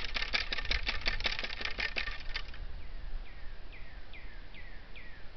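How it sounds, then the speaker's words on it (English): A ramrod drives paper wadding and a .70 caliber round ball down a flintlock musket barrel loaded with 3F powder, giving a quick run of close, sharp scraping taps for about two seconds before it stops and leaves quiet background. "Yep, gotta ram my ball down. 70 caliber round ball,"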